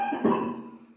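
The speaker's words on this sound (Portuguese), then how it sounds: "Desculpa, meus irmãos, que eu estou ruim de tosse mesmo" A single harsh cough bursts out up close from a man with a bad cough, a rough throaty burst that tails off quickly.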